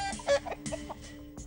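Short bursts of chicken clucking, a few quick calls over a faint steady hum, moderately close.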